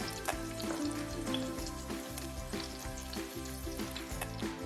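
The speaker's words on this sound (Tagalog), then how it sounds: "Next naman is isosotay na natin tong ating bawang." Garlic sautéing in melted butter in a pan for creamy pork mushroom, a loud, continuous close sizzle with crackles and a faint repeating low hum underneath, no talking.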